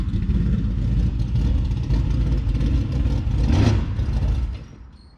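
Engine of a car with a rebuilt Brinn transmission revving steadily as the clutch pedal is let out, a loud low rumble that swells briefly near the end, then drops away.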